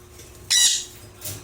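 Sun conures squawk while fighting, giving one loud, harsh screech followed by a shorter, fainter squawk, close up in an otherwise quiet room.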